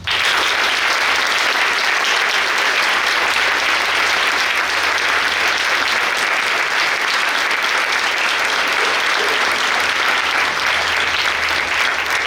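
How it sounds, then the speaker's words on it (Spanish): An audience at a conference gives loud, sustained applause, dense clapping that stays at full strength from start to finish without fading. "Para todos les pedimos por favor un fuerte aplauso"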